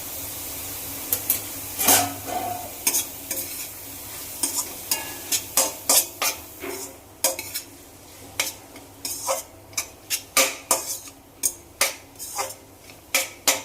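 Ginger, garlic and tomato sauté in a pan for chicken gravy, a spoon scraping and clinking against the metal in repeated sharp strokes over a low continuous sizzle, close and without talk.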